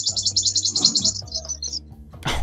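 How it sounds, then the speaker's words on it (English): Loud bird chirps ring out close by in a rapid string of high trills, followed by a few shorter bursts, over a low background hum. "those are some loud bird chirps"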